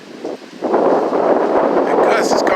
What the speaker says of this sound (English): It's about a 30 to 35 mile per hour wind gust.